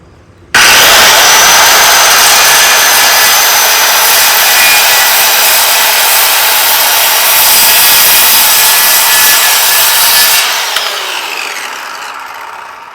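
Power saw cutting through a stack of three wood pieces for a loveseat gazebo build, a loud, steady broadband whine running unbroken for about ten seconds before winding down.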